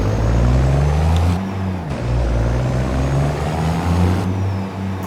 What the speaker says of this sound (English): Great sound from this truck.